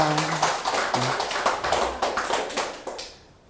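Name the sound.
audience clapping hands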